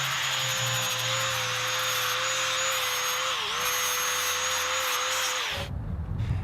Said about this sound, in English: A flap disc cleans it up real quick.